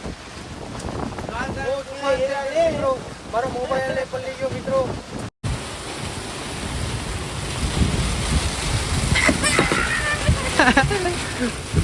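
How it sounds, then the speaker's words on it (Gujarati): Strong, gusty storm wind at sea roars into the microphone aboard a boat. Someone talks over it in the first half, and there is a brief dropout midway. "દુનિયાનો પવન ને વાવડો મોટો થઈ ગયો"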